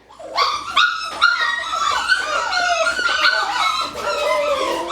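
Litter of 4.5-week-old puppies yipping, whimpering and howling together, a close, continuous chorus of high-pitched cries with no talking.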